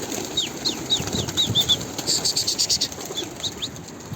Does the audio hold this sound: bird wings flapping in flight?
yes